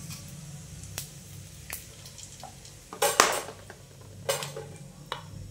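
Cumin seeds and a bay leaf drop into hot oil in a home kitchen while whole masoor dal masala is being prepared. Brief clinks of a metal spoon against the pan, a soft sizzle, and a few sharper scrapes sound up close.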